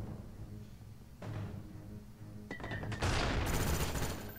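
Gunfire in the multiplayer video game Call of Duty Black Ops 1 breaks out in bursts of rapid shots that grow denser and louder toward the end, layered over booming low rumbles.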